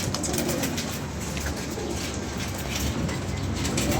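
Pigeons cooing softly with bursts of wing flapping, close by over a broad steady background noise, with no talk.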